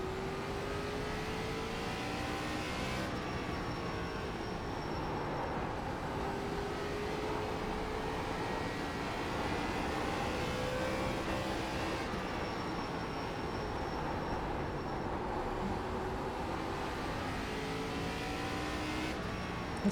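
A race car engine in the iRacing ARCA series at Concord holds a steady drone for a qualifying lap, the pitch climbing and dropping through the corners in repeated cycles, loud and alone.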